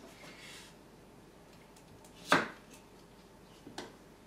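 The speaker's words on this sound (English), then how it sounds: "I like to cut the courgette to about 4 pieces" A knife cuts a courgette into pieces, one sharp loud chop on a board near the middle and a couple of fainter taps near the end, the rest quiet.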